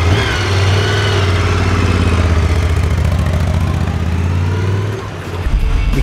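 Moto Guzzi Stelvio motorcycle engine running loud and close, a steady low throb with a slight rev rise, easing briefly near the end before picking back up, out near the mountains by Lake Como.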